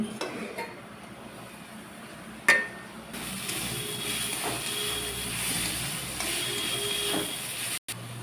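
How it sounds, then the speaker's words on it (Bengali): A cooking pot lid comes off with a short, sharp clink, then a louder hiss of steam fills the background, with another faint knock near the end and no talk. "ঢাকনা খুলে নিচ্ছি"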